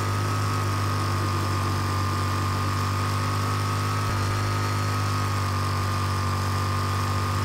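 A vehicle engine in the video game Rage runs steadily throughout, a loud, continuous idling drone with one brief bump midway and no talk over it.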